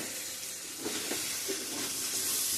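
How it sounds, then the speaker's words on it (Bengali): Hot water is poured into browned chicken curry cooked with ground spices, tomato paste, ginger and garlic, raising a steady, fairly faint sizzling hiss with a few brief bubbling bursts and no voices. "মাংসটা কষানো হয়ে গেছে বন্ধুরা। এখন গরম জল অ্যাড করে দিয়ে দেব।"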